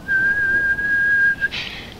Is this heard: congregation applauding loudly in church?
no